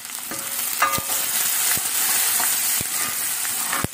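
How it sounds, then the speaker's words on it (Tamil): Chilies crackle and fry in hot oil in a home kitchen pan, a bright steady sizzle punctuated by sharp pops and a few clinks of a stirring spoon, close and loud. "மிளகாய் எண்ணெயிலே போட்டா ரொம்ப வெடிக்கும் நெடி ஆகும்"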